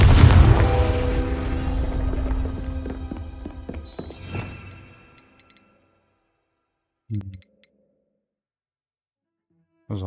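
A Confringo blasting spell in Hogwarts Legacy bursts into a loud, rumbling explosion that crackles and fades over about five seconds, followed by silence and two brief, dull thumps later on.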